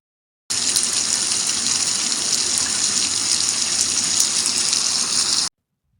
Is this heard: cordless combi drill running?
no